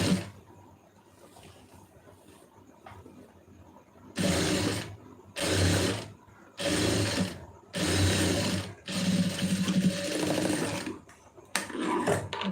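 Sewing machine running in several bursts of a few seconds each as it stitches a shoulder seam for a tailoring lesson, loud and close with short pauses between runs, no talk.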